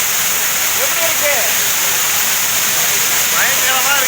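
A waterfall at Tenmala, Kerala, sends rushing water down in a loud, constant roar, while faint voices and shouts rise now and then above it.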